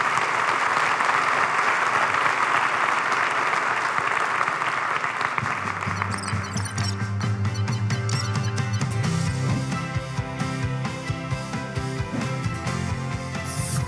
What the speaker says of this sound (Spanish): Recibámoslos con un fuerte aplauso